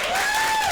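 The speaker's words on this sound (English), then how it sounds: "Let's give her a round of applause." Audience applause at a real estate sales talk, a dense steady wash of clapping filling the whole short moment at moderate loudness, with a thin sustained tone gliding faintly above it.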